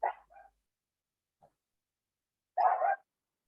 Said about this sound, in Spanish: ¿Qué es ese perro que se escucha?